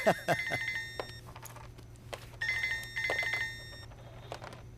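A phone rings in repeated electronic bursts, two clusters of bright chiming tones separated by a short pause, fairly clear against a quiet background.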